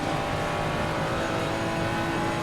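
Ferrari GT3 race car at Suzuka in wet conditions heard from onboard, its engine a steady, loud, unbroken drone with no talk, the tone holding fairly constant over a couple of seconds.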